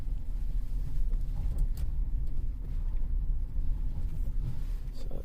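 A 2013 Cadillac CTS with the 3.0 engine and rear-wheel drive rumbles steadily while driving, a continuous low road and engine drone with no talk over it.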